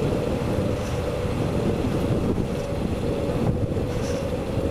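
A Xiaomi M365 electric scooter converted to 2kW rear-wheel drive accelerates hard, heavy steady wind roar buffeting the microphone throughout, with the motor lost beneath the rush of air.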